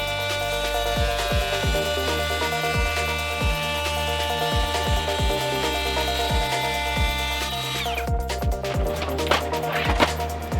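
DeWalt DCW620 cordless plunge router cutting a female joint in wood with a jig over several passes, a steady motor whine with repeated cutting strokes. The pitch drops near the end as the router winds down, and no one speaks.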